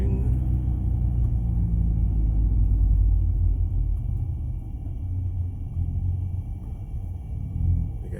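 A Dodge Journey engine runs while the vehicle is driven, a steady low rumble and road noise holding throughout with slight swells, fairly close and alone.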